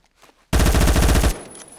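A Colt SMG fitted with a 50 GI conversion fires one loud, rapid automatic burst in Phantom Forces. The burst lasts under a second and cuts off abruptly, leaving a short echoing tail.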